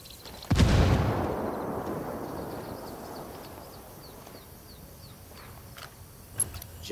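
A frag grenade explodes in Ghost Recon Wildlands PvP, a single loud, close blast followed by a long rumbling decay and faint ambient game sounds, with a small sharp sound near the end.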